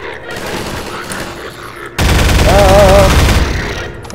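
Rapid gunfire aimed at antlions in Half-Life 2 erupts loudly halfway through as a sustained close burst, following quieter game sounds, with a voice partly heard.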